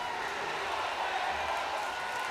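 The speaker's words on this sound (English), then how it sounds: "the crowd calling for it" Steady crowd roar fills the arena in a WWE 2K wrestling game, a dense, even wash of massed voices with no breaks, sounding like fans calling out together throughout.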